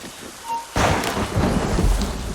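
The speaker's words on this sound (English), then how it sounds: "The storms get worse." Stormy weather in Assassin's Creed Rogue: steady rain hiss suddenly swells into a heavy rumble of thunder that rolls on loudly to the end.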